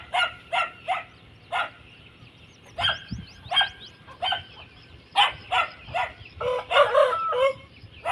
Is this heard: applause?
no